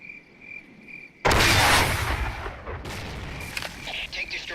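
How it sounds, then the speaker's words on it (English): A tank is destroyed in the Ghost Recon tactical shooter, a sudden loud explosive blast that cuts through a high steady electronic tone, then a rumbling tail with scattered crackles and fainter follow-up bangs. "Tank destroyed."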